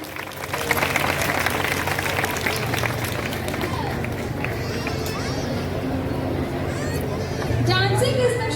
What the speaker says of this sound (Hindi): जोरदार तालियां हमारे